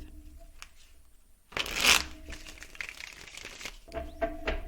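A deck of tarot cards is shuffled close by, with a quiet lead-in before a burst of crisp riffling and rapid flicking, then lighter shuffling and card handling that continue to the end, with no talk.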